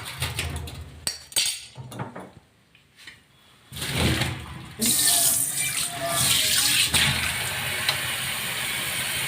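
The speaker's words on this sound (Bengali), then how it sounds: "এইবার আমি এই পালং শাকটা এই ঝুড়িটার মধ্যে ঢেলে দেব।" Boiled spinach and its cooking water pour into a colander in a home kitchen. A few clinks and knocks come first, then a loud, steady rush of draining water that runs to the end.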